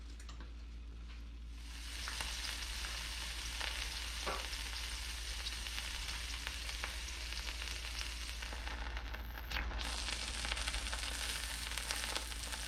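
Beef short ribs sear in a hot pan, giving a steady close sizzle and crackle that grows louder after a couple of seconds and swells again toward the end.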